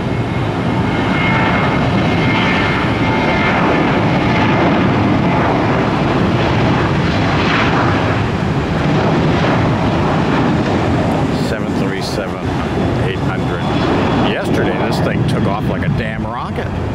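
An airliner lands at Tampa airport, its engine roar loud and steady throughout, with wind buffeting the microphone and a broadband rumble that shifts slightly toward the end.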